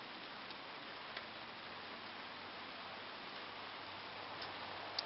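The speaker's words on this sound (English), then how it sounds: "Rain's lightening up again." Light rain falls steadily outdoors at a greenhouse, a faint, even patter with a few soft isolated drops ticking now and then.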